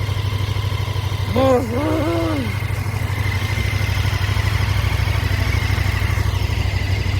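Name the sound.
motorcycle engine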